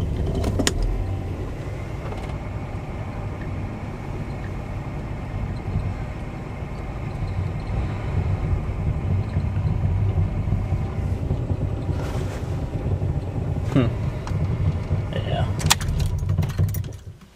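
A 1986 AMC Eagle Limited wagon idles with a loose exhaust, a steady low rumble and rattle that fills the whole stretch, with a few brief clicks and jingles of keys near the end.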